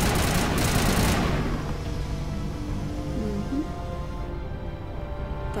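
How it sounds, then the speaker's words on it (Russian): Gunfire in the Mass Effect video game opens with a loud, dense burst like a heavy automatic volley, then settles into a sustained noisy roar with faint tonal whines. No one speaks. "Там это чьи пушки? Наши пушки или не наши пушки?"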